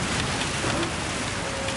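Rain falling steadily during a GT3-style racing game session at the Nordschleife, a dense continuous hiss of drops with no talk over it.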